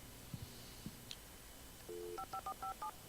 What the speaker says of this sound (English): Speed dial!